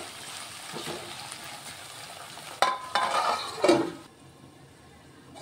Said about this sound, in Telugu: ఇప్పుడు చూద్దామండి, ఆలుగడ్డలు కొంచెం ఫ్రై అవుతున్నాయి.